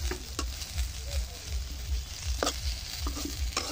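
Eggplant slices frying in a pan on a stovetop in winter, a steady close sizzle and crackle with brief louder spits of oil and occasional soft scraping, no talking.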